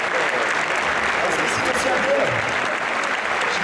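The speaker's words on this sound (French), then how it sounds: "Et voici Zaghi, on l'applaudit bien fort." Dense, steady applause from the crowd at a Super Street Fighter 2X tournament final as a player is called on stage, loud and continuous throughout.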